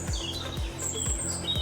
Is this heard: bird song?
yes